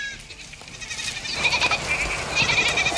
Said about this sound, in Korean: 코코넛과 함께 떨어지는 잎을 보고 달려드는 염소들